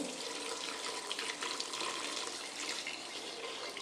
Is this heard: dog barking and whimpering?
no